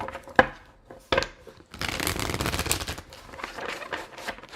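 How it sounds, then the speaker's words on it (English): Tarot cards are shuffled by hand during a reading. A couple of sharp taps come first, then a long, dense riffling rustle that rises and falls and carries on to the end. "Can I get one more shuffle?"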